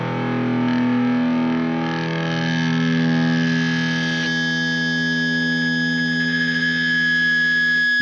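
Loud distorted guitar feedback closes a rock song from an album, sustained howling tones and harmonic drones ringing continuously for eight seconds, thickening into brighter piercing overtones partway through.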